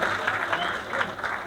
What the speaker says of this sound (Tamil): மிகப்பெரிய கரகோஷம் கொடுத்துடலாம் இப்படி ஒரு எனர்ஜெட்டிக்கான ஸ்பீச்சுக்கு.